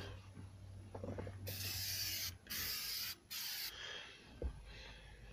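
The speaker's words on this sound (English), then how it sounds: "Okay, we're gonna spray it down." Several quick hissing sprays of cleaner from a trigger bottle onto a Honda Accord dashboard, close by, followed by a faint rubbing sound.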